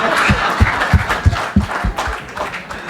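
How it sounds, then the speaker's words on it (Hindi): An audience claps at a literature festival in New Delhi, a close, lively burst of applause with rapid uneven claps that fades slightly toward the end. "एक बार दोबारा से बजाइए आप ताली"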